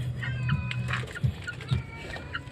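Pet chickens, among them a rooster, cluck nearby in short, scattered calls over a steady low background hum, with no one speaking.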